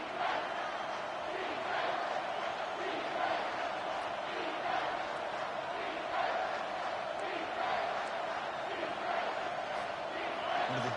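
A football video game stadium crowd roars and chants steadily through a third-down play, a dense continuous wall of cheering with rhythmic swells.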